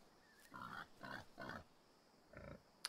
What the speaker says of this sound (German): Och, Schweinchen.